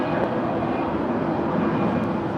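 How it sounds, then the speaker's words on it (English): A Virgin Atlantic Boeing 787 Dreamliner arriving from London at LAX on the north side gives a continuous broad jet-engine roar, steady and fairly loud, with no voices. "we do have the Virgin Atlantic Flight 141 coming in from London on that Dreamliner on the north side"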